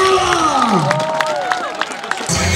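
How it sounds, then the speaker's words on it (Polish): A crowd at the Skillz Up Cup 2011 competition claps and cheers for the winners, bursts of applause and shouts carrying in a loud, reverberant space alongside an amplified announcer's voice. "Brawa dla nich jeszcze raz!"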